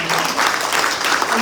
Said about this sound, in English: thank you, applause for your courage